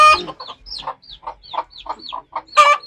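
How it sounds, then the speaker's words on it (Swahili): Chickens in a coop cluck in a quick run of short, close calls, about a dozen in a row, ending with one louder, harsher squawk. "angalia kuku wangu hapo kwenye banda"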